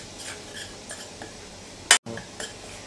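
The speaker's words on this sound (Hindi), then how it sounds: "अब इसमें हम कोकोनट पाउडर भी डालेंगे और इसे लाइट ब्राउन होने तक सेकेंगे" Coconut powder dry-roasting in a pan while being stirred, with soft scraping strokes at an even pace and a single sharp clatter near the middle.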